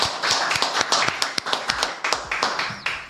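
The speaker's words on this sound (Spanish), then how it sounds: "Te vamos a recibir con un aplauso, Carlos." A few people clap in a studio to welcome a guest on a talk show, sparse distinct claps in an uneven rhythm, close and moderately loud, lasting a few seconds.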